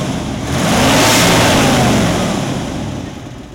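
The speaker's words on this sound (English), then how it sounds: "Engine works even." A 1966 Ford F-100 pickup engine running on new spark plug wires, revving up loudly up close and then easing back toward idle, with no talking.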